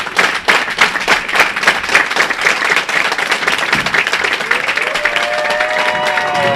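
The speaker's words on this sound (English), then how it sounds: "And the crowd starts to clap as this is the final shot for Clara Guerrero." A bowling crowd at the 2014 QubicaAMF World Cup women's final claps in steady rhythm before the last shot, dense and loud, with a brief high whistle near the end.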